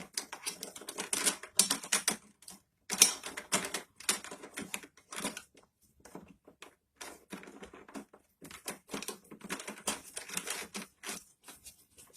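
Rapid ratcheting clicks from a knob being tightened on the upper handle of a Litheli 20V cordless 13-inch lawn mower, close and crisp in irregular bursts separated by short pauses, no speech.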